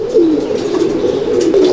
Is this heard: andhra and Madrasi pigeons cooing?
yes